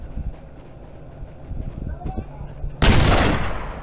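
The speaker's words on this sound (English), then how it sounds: "Gunshot, gunshot" Gunfire in a battle royale video game, with several shots and a burst of loud, sharp blasts near the end, heard over game background sounds.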